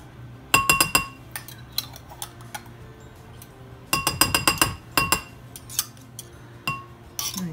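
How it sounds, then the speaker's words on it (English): A whisk clinks against a bowl while mixing mayonnaise, with quick clusters of bright metallic and glassy taps in two busy bursts separated by sparser single clicks, close and fairly loud. "So you're going to whisk together the mayonnaise."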